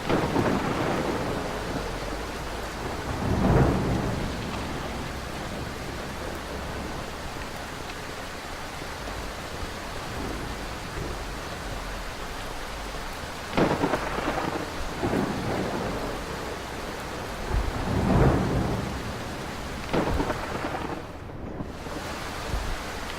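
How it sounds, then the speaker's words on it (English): Video game thunder rolls and booms several times over steady rain, some rumbles distant and others sharper and closer, with a crackling close lightning strike near the end. "You should also hear a crackle from a close lightning strike like that one right there."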